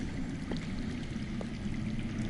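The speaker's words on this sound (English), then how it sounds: "That's water. I hear water. From underground." Underground water flowing in the Game of Thrones video game: a steady, even rushing like a hidden stream that holds at a constant level from start to finish, with no voices.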